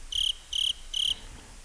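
Cricket chirping as a sound effect: three evenly spaced, bright trilled bursts, each about a fifth of a second, clear and close with nothing else around them.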